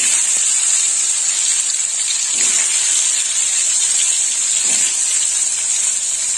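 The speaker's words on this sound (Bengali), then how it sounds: "গরম হয়ে গেছে, তেলের মধ্যে এবার করলাগুলো দিয়ে দেবো।" Pieces of bitter gourd dropped into hot oil in a home kitchen, giving a continuous bright sizzle with a couple of soft knocks as the slices go in.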